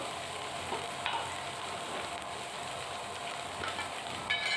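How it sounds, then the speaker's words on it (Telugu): Paneer curry with coriander and mint leaves being stirred in a pan, a soft steady sizzle with occasional light scrapes and clinks of the spoon, fairly quiet and with no voices. "పుదీనా, కొత్తిమీర కూడా కలిసేలా బాగా కలిపేసుకుందాము."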